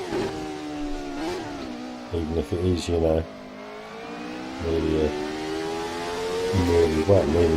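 A nearly 30-year-old Formula 1 car in the Assetto Corsa racing game at Autodromo di Pergusa revs and shifts, its engine note climbing in repeated bursts while someone talks over it.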